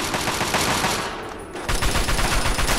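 Rapid automatic gunfire in Fallout 3 during a battle in the trenches, loud and continuous bursts with a brief lull in the middle before the firing surges again.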